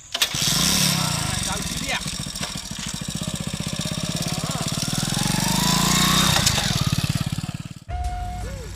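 A motorcycle engine starts and runs with a loud, rapid, throbbing putter that holds steady for several seconds before cutting off abruptly, followed by a brief tone.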